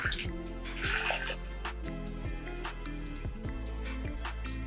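Boiling water pours steadily in a continuous splashing stream for mint tea, with a low rumbling undertone and a few soft drips, no voices.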